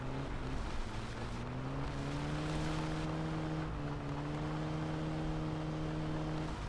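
A car engine in the video game My Summer Car drones steadily, its pitch rising then holding as it drives along, continuous and unbroken, with no voices.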